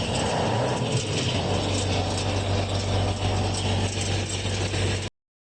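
A trailer-mounted double suction pump motor starts up, churning with a steady mechanical rattle and a low hum that kicks in and settles into a constant drone before cutting off abruptly.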